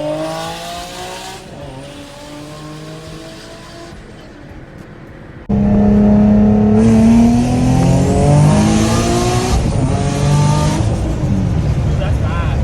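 A street-tuned turbocharged Nissan 350Z accelerates hard, its engine note climbing through repeated pulls and revs. About halfway through, the roar becomes much louder and more up-close, with rising and falling sweeps, and a sustained whining tone runs through the passage.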